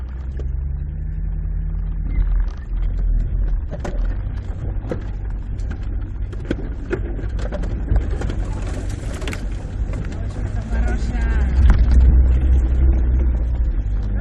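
A car climbs a slope on its rear wheels, its engine a steady low rumble that swells near the end, with bird calls and scattered clatter over it.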